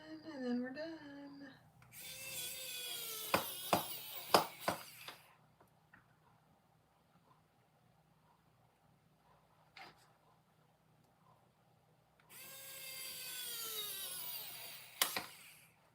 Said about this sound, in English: let's put the screws on and then we're done.